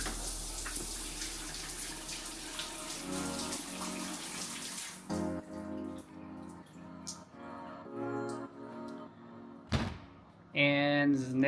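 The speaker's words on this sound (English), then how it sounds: "The shower feels really comfortable." A hotel shower runs in a bathroom as a broad, steady rush of water at first, then stops and gives way to quieter drips and clunks of fittings. A person talks over it.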